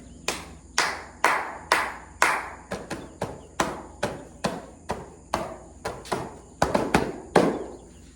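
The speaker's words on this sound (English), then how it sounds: "The clapping is just to make a distraction." Single person clapping hands sharply about fifteen times in an irregular, spaced rhythm, each clap crisp and close, used as a distraction during a dog's sit-stay training.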